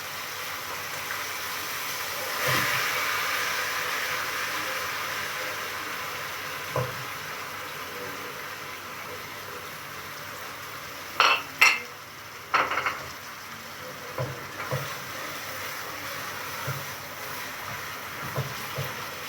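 Basmati rice frying in oil and ghee in a pot, a soft steady sizzle with a few sharp clinks and scrapes of a spoon being stirred through it near the middle, with no talking.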